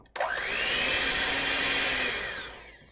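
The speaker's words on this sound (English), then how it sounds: "I'm going to add in 1 cup of flour and then I'm going to beat it in" An electric mixer beats flour into biscochito cookie dough, starting abruptly and holding a loud, steady whir with a slowly falling pitch for nearly three seconds, with no one speaking.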